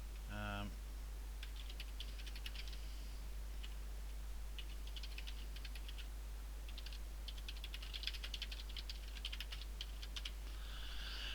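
Notes are typed on a computer keyboard in quick bursts of light clicks, with short pauses between runs, over a steady low hum.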